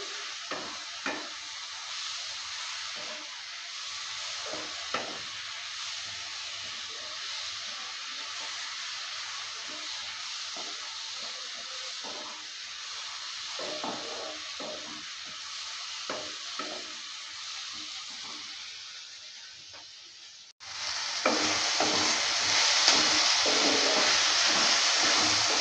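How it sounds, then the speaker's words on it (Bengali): Fried eggplant and potato being stirred with spices in a pan, a steady soft sizzle with intermittent scraping strokes, the frying hiss rising louder near the end. "বেগুন আলুটা দেওয়ার পর ভালো করে আবারও নেড়ে নিচ্ছে।"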